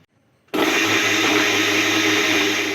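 A mixer grinder switches on abruptly and runs at full speed, grinding masala for a bitter gourd dry chutney with a loud, steady whirring roar after a brief quiet start.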